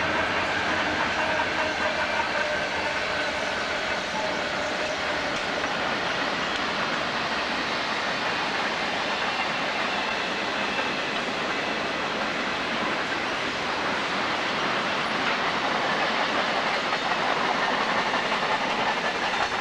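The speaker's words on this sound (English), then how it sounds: "why is this trolley video opening with a diesel train?" A loud, continuous rushing roar of a diesel train passing close by, steady throughout with a broad hiss and faint rhythmic rattling.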